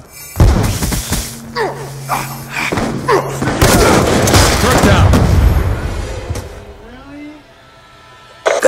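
Frag grenade blast in Black Ops 2 amid heavy gunfire, a dense stretch of booms and shots with a loud sustained explosion that fades into quieter rumble, voices shouting over it.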